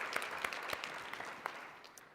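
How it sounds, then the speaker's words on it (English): An audience at a conference awards luncheon claps for the organizing committee, with many hands producing a dense patter and sharper individual claps that gradually fade toward the end. "So a round of applause, please, for the conference committee and track chairs."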